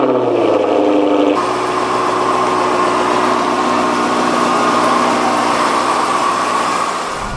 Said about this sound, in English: so we are gonna get a cold start up.